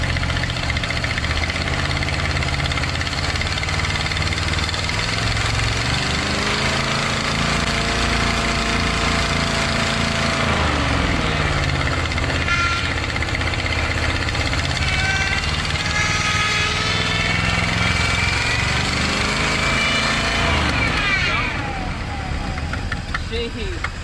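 An abandoned Jeep Wagoneer engine that sat for decades idles roughly, a steady loud rumble that wavers and dips as it threatens to stall, with people talking over it.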